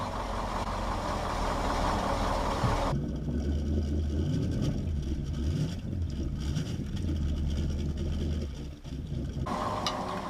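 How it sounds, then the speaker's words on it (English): A boat engine runs steadily while antifreeze is drawn into it during winterizing, giving a continuous low rumble that changes character partway through and then returns, with no talk over it. "Next, I start the engine and watch the antifreeze level in the bucket go down"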